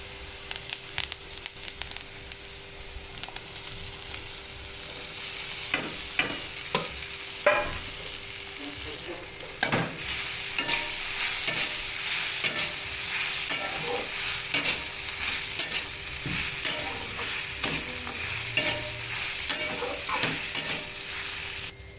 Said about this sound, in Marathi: असं व्यवस्थित परतून घ्यायचं आहे.